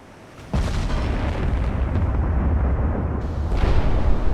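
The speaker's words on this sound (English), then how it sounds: "Give myself an angle with the 18-inch gun. One shot should be enough." An 18-inch naval gun firing in the warship game Ultimate Admiral: Dreadnoughts, a sudden heavy boom that rolls into a long, loud rumbling roar and swells again near the end, with no talking.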